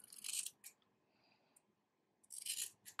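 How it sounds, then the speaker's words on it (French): Scissors snip excess crochet yarn in a few short, crisp cuts at the start and end, with quiet handling in between and no talking. "Alors, je vais couper tout ce qui dépasse."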